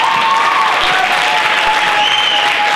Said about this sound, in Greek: Να το χειροκροτήσω.